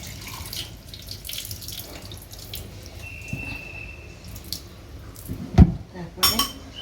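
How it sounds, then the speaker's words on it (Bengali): Water poured off boiled noodles into a sink makes a steady rushing wash with splashes, a sharp metallic clank of the pot partway through and a few drips and clinks after, close by. "এটাকে একটু নাড়িয়ে চাড়িয়ে জলটাকে"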